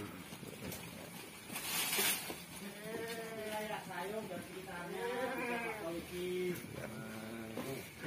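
Several newly arrived goats bleating in wavering cries at a goat sale, some overlapping, close by, with background noise and a few voices around them.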